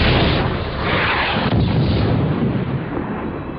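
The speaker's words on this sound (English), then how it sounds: "airstrikes were called in to bomb one last building where insurgents were holed up. The first aircraft in made a precision strike." Airstrike bomb explosion leveling a building held by insurgents in Najaf during the American occupation: a loud, sustained roaring blast rumble fills the whole stretch without easing, with no voices.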